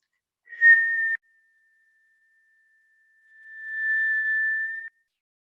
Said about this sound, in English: So just go and just whistle.